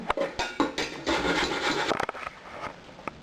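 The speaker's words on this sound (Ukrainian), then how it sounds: "Я починаю терти морку." Rough scraping strokes of carrots being grated, dense rasping for a couple of seconds, then a few lighter scrapes and taps, close by.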